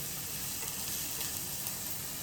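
Chopped onions sizzle steadily in hot oil over a high gas flame while being stirred, a close, continuous frying hiss with no pauses.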